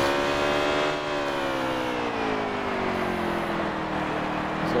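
Stock car engine in a racing game held high near the redline into a corner at Martinsville, a steady loud harmonic whine that sags slightly, continuous and alone without talk.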